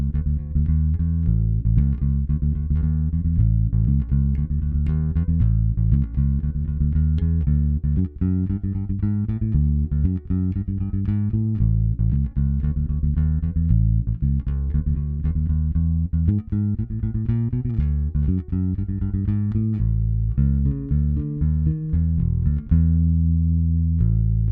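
A bass guitar strung with flatwound strings, volume and tone full up, plays a steady blues bass line for the whole stretch, dark and punchy, with continuous loud low notes and no talking.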